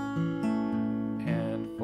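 A fingerpicked acoustic guitar pattern with the thumb alternating bass notes beneath plucked upper strings, played in a steady, close, moderately loud rhythm for a song; nobody speaks.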